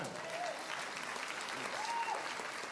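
A crowd at a school grand opening and ribbon cutting applauds steadily, a dense wash of clapping with faint cheers rising through it.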